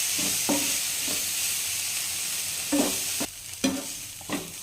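Grated coconut is stirred into frying banana flower poriyal, a steady sizzle broken by several scraping spoon strokes against the pan, close by and with no talking.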